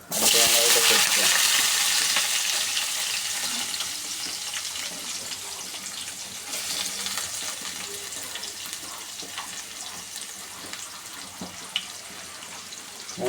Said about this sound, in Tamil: வெங்காயம் நல்லா ரோஸ்ட் ஆகட்டும்